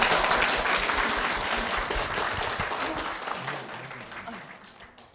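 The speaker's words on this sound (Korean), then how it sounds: "박수로 모시겠습니다" A church congregation applauds to welcome a deacon's mother to the stage, a dense burst of clapping that starts loud and gradually fades toward the end.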